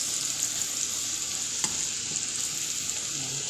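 Potatoes fry in a pan, a steady close sizzle with a bright hiss and an occasional stir or tap of a utensil, no voices.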